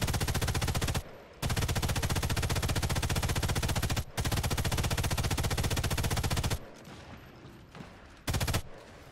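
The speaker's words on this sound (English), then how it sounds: "I got the MG42." Sustained MG42 machine-gun fire in the multiplayer video game Sniper Elite 5: long, dense, rapid bursts, loud and close, broken by a few short pauses and ending in scattered quieter shots.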